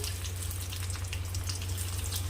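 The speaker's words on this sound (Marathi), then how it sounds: "भेंडी स्वच्छ धुवून पाणी पूर्ण काढून घ्यायचं आहे" Okra is washed under a running kitchen tap, with a steady close splashing and rushing of water over a low hum, no talking.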